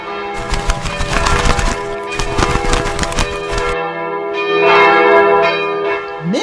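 A big bell rings loudly and repeatedly, rich sustained tones with dense overtones clanging over and over, then settling into a long decaying hum toward the end.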